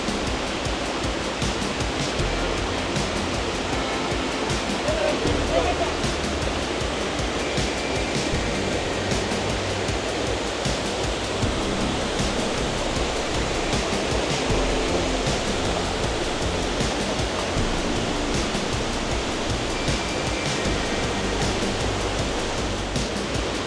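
La Paz Waterfalls in Costa Rica roaring close by, a loud, steady broadband rush of falling water that continues without break throughout.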